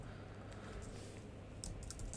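Soft, quick keystrokes on a computer keyboard as someone types a short search into a filter field, a faint patter over steady room hiss with a few crisper clicks near the end.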